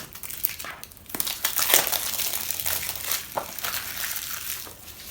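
Packaging crinkles and crunches as the wrapping around a small tube of buttock-firming cream is torn open and crumpled by hand, steady rustling close up for several seconds.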